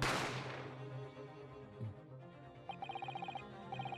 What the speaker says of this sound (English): You heard the gunshot,